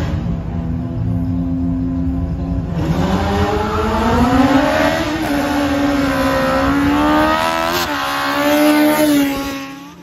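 Honda Jazz drag race car revving hard in the staging lane at a drag racing championship starting grid, its engine note climbing and falling in repeated loud bursts close by, crowd noise behind.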